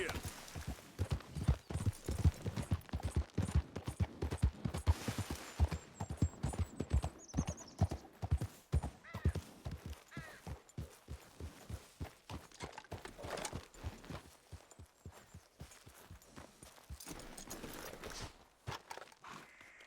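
Horse hooves clip-clopping at a steady walking pace in the video game Red Dead Redemption 2, a continuous rhythmic series of fairly close hoof falls with occasional voices talking over them.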